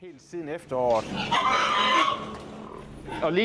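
A pig on a Danish farm gives a loud, harsh squeal lasting about a second and a half, close by, with short vocal calls and a voice around it.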